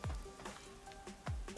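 Rain patters steadily on surfaces in a detective video game, faint and continuous, with a couple of low thudding knocks in the foreground.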